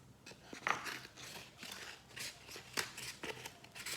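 Scissors cut the cardboard top of a homemade Mancala board into two pieces, producing close, quiet crunching snips and papery rustles in an uneven rhythm, with no talking.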